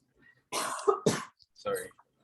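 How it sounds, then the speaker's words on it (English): A person recovering from COVID gives a few rough coughs in quick succession, close and fairly loud, separated by short pauses. "Sorry, I'm like coughing."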